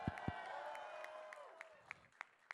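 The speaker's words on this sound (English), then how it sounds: "Let's give them a round of applause." Crowd applause and cheering at an Andrew Yang presidential campaign rally in Iowa, a fairly quiet wash of clapping with scattered sharper claps and a voice-like tone running through it.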